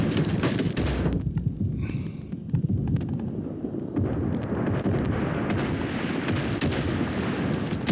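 Dense, continuous gunfire from a Far Cry 4 multiplayer match on a custom map, steady bursts of shots and blasts filling the whole stretch with no pauses and no talk.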